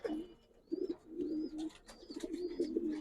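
Silver Giribaz pigeons coo close by in soft, repeated throaty rolls, several overlapping phrases with a few faint higher chirps over the top, with no talking.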